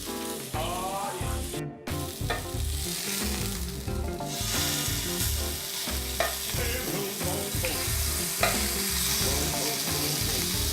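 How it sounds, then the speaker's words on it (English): Marinated peppercorn steak sears in a hot pan, a dense, steady sizzle running throughout with occasional crackles, heard close beneath prominent background music. "we will cook our meat 5 to 6 minutes on a high heat pan, each side"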